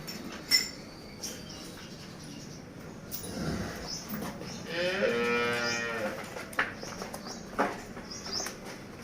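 Dairy cows at a village sale, a single long, loud moo close by in the middle, with faint clatter and shuffling around it.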